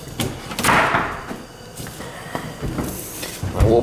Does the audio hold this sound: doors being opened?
yes